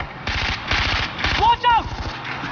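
Far Cry 4 gunfire: rapid, loud automatic bursts in a tight rhythm, with a brief high tone and a voice sounding mid-burst.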